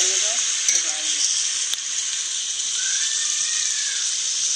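Tomatoes and spices frying in a pan for chana biryani, a steady bright sizzle running throughout, close and loud, with a few faint clinks near the start.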